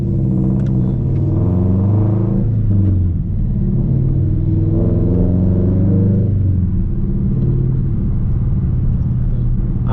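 A Subaru BRZ running E85 fuel, with unequal-length headers and a catless exhaust, drones steadily while driving, its engine note rising and falling through a few throttle swells with continuous low rumble.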